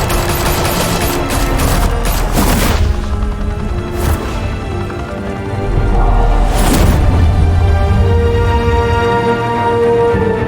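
Dense volleys of gunfire in the Batman: The Telltale Series video game, loud bursts and sustained automatic fire with heavy booms, continuous throughout in a chaotic firefight.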